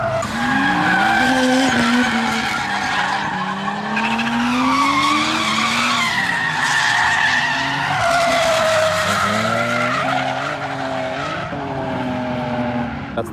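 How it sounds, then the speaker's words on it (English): Drifting cars, including Nissan Skyline R34s, sliding around the Fuji Speedway drift course with long loud tire squeals and revving engines, near and continuous. "Let's see if there's anybody good at drifting"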